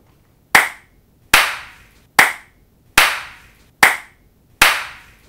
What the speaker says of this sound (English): It's more obvious with the claps because it's a very short sound, so we can hear better the tail of the reverb.